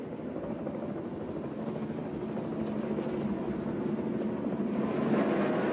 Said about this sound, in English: laps so far, with Rusty Wallace leading and the Pennzoil copter cam providing the aerial shots.